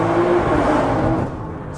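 A 1000-horsepower stage 3 BMW G80 M3 kicks down and accelerates hard on city streets, giving a loud, steady engine roar that eases off slightly toward the end.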